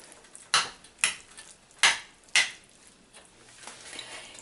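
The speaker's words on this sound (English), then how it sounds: "Mix the curd, rice, ginger and salt properly." Spoon clinking against a bowl while mixing curd, rice, ginger and salt for curd rice, several sharp separate taps spaced irregularly, fairly faint, with no talking.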